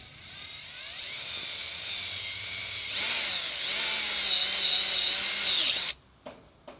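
A power tool whines steadily while driving an easy-out extractor fitted with an M6 nut and 8mm socket on a CT110 postie bike clutch plate, loud and continuous for about six seconds before cutting off, followed by brief clicks.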